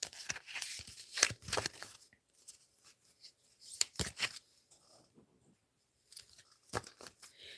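Crisp riffling and papery flicking in short bursts with pauses, like a deck of cards being shuffled close by.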